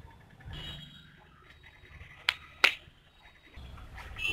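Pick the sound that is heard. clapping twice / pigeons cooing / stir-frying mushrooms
clapping twice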